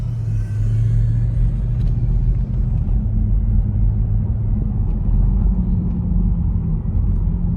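A 2003 Mercedes-Benz SL500 V8 roadster on the road, its engine giving a steady, loud low rumble with broadband road and wind noise throughout, no talking.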